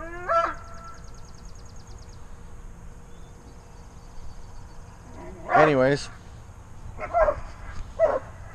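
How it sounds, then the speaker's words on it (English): Dogs and a puppy bark in short bursts around a person speaking, with a quick yelp early on and a louder cluster of barks later, fairly close and intermittent. "Sorry for my dogs, but they I got a puppy, and they won't shut up"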